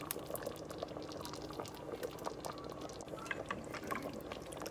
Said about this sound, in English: So we're also gonna add 1 tin of Grace butter bean.